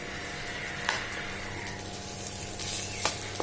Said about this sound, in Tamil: அதை நம்ம இதில் போட்டு மிக்ஸ் பண்ணிடணும்